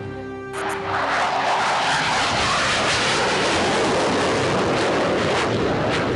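A Tejas fighter jet roars overhead, a loud, dense, continuous rumble that swells in within the first second and holds steady throughout.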